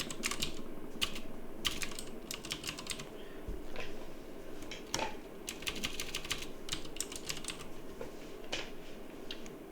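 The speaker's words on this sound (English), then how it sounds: "So I'm simply gonna type Markdown." Rapid, close clicking of a computer keyboard comes in irregular bursts of keystrokes over a low background hum.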